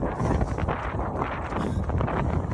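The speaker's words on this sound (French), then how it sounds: "T'as un petit vent frais qui te rafraîchit." Cool breeze during an outdoor run in summer heat, buffeting the microphone as a rough, continuous rumble with uneven gusts.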